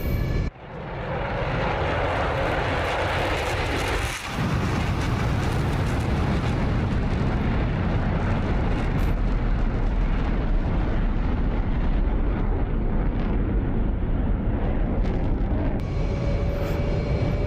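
A loud, continuous F-22A Raptor jet roar in the DCS flight simulator, building in the opening second and then holding a dense, broadband rumble throughout a flyby, with a brief dip early on and no voices.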